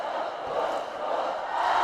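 A huge crowd at a high school boys basketball game between Rocky Mountain and Fort Collins makes a steady, broad roar of voices and cheering that fills the gym and swells slightly toward the end.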